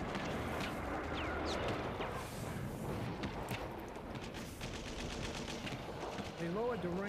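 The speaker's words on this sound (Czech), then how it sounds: "Přes vodu svištěly salvy z kulometů." Machine gun volleys and gunfire crackle across the water during the D-Day landing at Omaha Beach in 1944, dense and continuous over a churning roar of battle, with voices mixed in.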